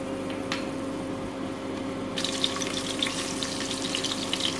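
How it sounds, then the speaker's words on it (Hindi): Finely chopped onion fries in a pan, a constant low sizzle that grows brighter and busier midway, with light crackling spatters and no talking. "प्याज हमारी हल्की सी फ्राई हुई है"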